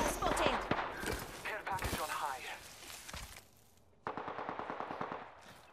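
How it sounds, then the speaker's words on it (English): Gunfire in the battle royale game Apex Legends: rapid bursts of automatic weapon shots, loud and close, broken by a short lull before another volley, with players talking over the action. "I hear shots"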